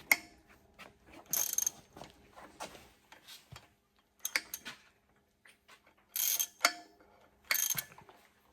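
Torque wrench being worked on the flywheel bolts of a Chevy 283 V8, giving clustered ratcheting clicks in short bursts with quiet gaps between, close by and moderately loud, with no talking.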